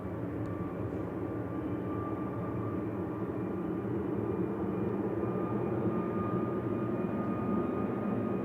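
A steady, continuous roar of an airplane departing Manchester Airport, heard at a distance with an even, unbroken rumble and no voices.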